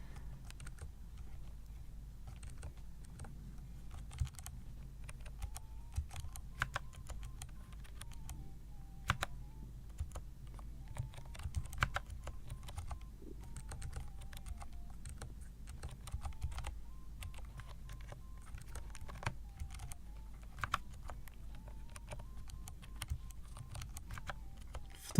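Continuous clicky typing on a Dygma Defy split keyboard, a steady, close stream of key presses with irregular rhythm over a low room hum, no voices.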